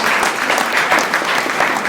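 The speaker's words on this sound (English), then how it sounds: "Give them a big round of applause." A crowd applauds steadily for veterans at a heritage event, a dense wash of clapping throughout.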